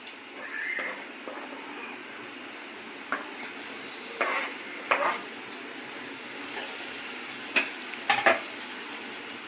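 Onion fries in hot oil under a soft, constant sizzle, broken by brief scraping stirs of a spoon against the pan that come in irregular bursts.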